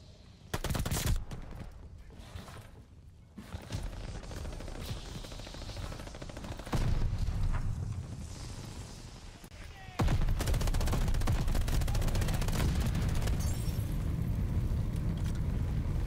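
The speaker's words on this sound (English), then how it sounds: "Shooting through the smoke like that." Gunfire in the shooter game Call of Duty Vanguard with a Sten submachine gun, scattered bursts and single shots early, then a sustained, dense rattle of rapid fire over the last several seconds, with booming impacts.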